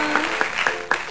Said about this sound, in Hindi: तो तालियां बजाएं. तालियां, तालियां.